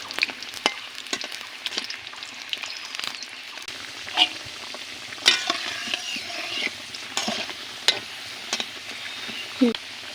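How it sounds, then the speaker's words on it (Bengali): Potato pieces fry in a generous amount of hot oil while being stirred, giving a steady crackling sizzle broken by sharp scraping and clicking strokes of the spatula against the pan. "এভাবে নেড়ে চেড়ে কিছু সময় আলুগুলো ভেজে নেব লাল লাল করে।"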